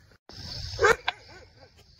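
A dog barks sharply once at close range, followed by a few softer whining yelps over a low background rumble.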